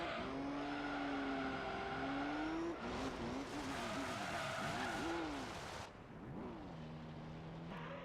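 Race car in Gran Turismo 3 sliding out of control on worn-out rear tires, with loud sustained tire squeal and wavering skid tones over a roaring engine, easing off near the end.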